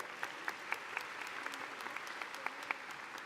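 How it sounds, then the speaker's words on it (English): Graduation audience at Union High School applauding the principal: a steady, distant crowd clapping with scattered sharper individual claps standing out, sustained and even throughout, no speech over it. "You can give him a round of applause."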